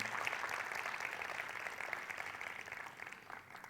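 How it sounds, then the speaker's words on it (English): Audience applause at a TEDx youth event in Kurdistan, a steady, fairly faint wash of clapping that holds evenly for a few seconds before easing slightly at the end. "I want to hear a big round of applause for the trainers, the speakers, the people who are here attending."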